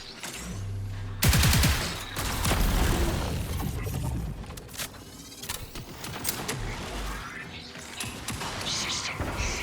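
Gunfire in the Marathon video game, with clustered bursts of shots, mechanical clanks and booming impacts in a busy mix, with occasional voices in the game.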